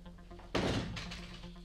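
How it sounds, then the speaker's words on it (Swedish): A door is shut with a single solid thunk followed by a brief rattle and fading reverberation, fairly loud and close, in a room with a low steady hum. "Kan någon stänga dörren där?"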